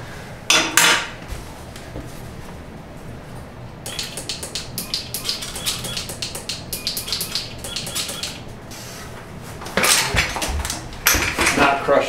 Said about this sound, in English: out comes the through axle